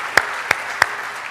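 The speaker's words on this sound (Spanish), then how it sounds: "Denle un fuerte aplauso a nuestro Dios." Church congregation clapping in praise with three distinct, evenly spaced claps ringing out in a roomy hall, with no speech over them.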